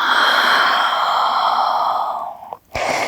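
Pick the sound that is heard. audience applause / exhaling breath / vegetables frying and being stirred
exhaling breath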